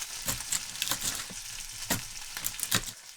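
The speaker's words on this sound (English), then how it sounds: "Get it right in the bacon grease, fry it all up, they'll be delicious." Chopped onions frying in bacon grease, a steady close sizzle broken by scraping, stirring clicks and crackles, with no voices.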